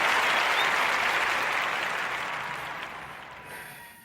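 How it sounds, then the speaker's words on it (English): A round of applause on a podcast, a dense wash of clapping that starts strong and gradually fades away. "Really, a round of applause, man"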